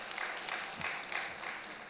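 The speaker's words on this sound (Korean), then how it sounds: "박수로 한번 격려해드리겠습니다." Applause from a small church congregation, a soft, continuous patter of clapping heard faintly at a distance with no one speaking.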